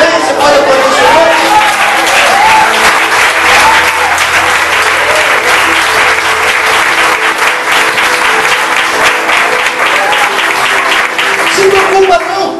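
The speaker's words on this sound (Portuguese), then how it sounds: "Você pode aplaudir o Senhor?" A church congregation applauds the Lord: thick, loud, sustained clapping fills the room for over twelve seconds, with voices and cheers mixed into the crowd noise.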